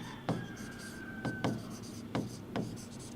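During a chemistry class, writing on a board comes through as short, faint scratchy strokes in a few separate bursts with pauses between them, under low room noise.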